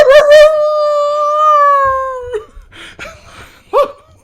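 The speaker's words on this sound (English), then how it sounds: "Get them Duke dogs down here" Dogs on a TV episode let out a long, loud sustained howl lasting about two seconds, preceded by short yelps, followed by rustling, clattering noises and another brief yelp.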